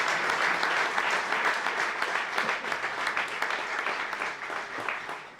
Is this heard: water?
no